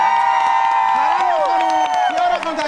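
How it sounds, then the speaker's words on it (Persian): Children in a television studio audience cheer, scream and whoop loudly, with clapping and high sustained shrieks and whistles rising and falling together. "از اون دست و جیغ و سوت و هورا و همه چیزا"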